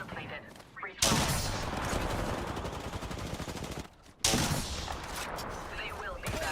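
Stinger weapon firing in a video game, a dense loud burst of rapid gunfire that runs for about three seconds, drops out briefly, then resumes just as intensely.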